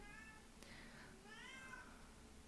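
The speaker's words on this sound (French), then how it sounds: "Je sais pas pourquoi il miaule, hein," A domestic cat meows repeatedly indoors, several drawn-out calls over a steady background hum with no talking.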